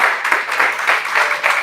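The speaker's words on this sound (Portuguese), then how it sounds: "Você pode aplaudir o Senhor por aquilo que Deus faz na vida?" A church congregation applauds during the inauguration of a new temple, a loud, thick wash of many hands clapping together with some crowd voices mixed in.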